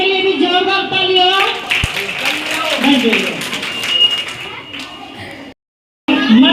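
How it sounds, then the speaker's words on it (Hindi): Scattered applause for students at a school summer camp focused on local dishes and spices. The clapping is mixed with voices and ends abruptly in a brief silence before the talk resumes. "एक बार इनके लिए भी जोरदार तालियां"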